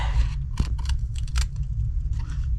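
Scissors snip through paper to trim a gingerbread man shape for a Christmas bulb treat box craft, giving a quick series of crisp, close cuts with short pauses between them.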